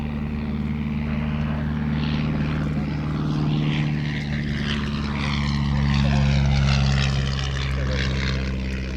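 A vintage propeller biplane at the Shuttleworth air show, built as an amalgam of three aircraft by Shuttleworth engineers, drones steadily throughout, its engine swelling slightly louder toward the end, with a voice speaking over it.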